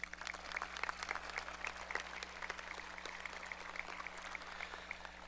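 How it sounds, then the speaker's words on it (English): A large crowd applauds retiring teachers at the 2024 Parkersburg High School graduation ceremony, a steady, dense patter of many hands clapping that sounds faint and distant throughout, with no voices over it. "So let's give them a round of applause."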